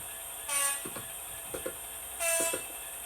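Diesel locomotive sounds from a sound decoder in a Bachmann class 66 model train: two bright horn blasts with clanking and rumbling engine noise in between, steady and close, with no voices.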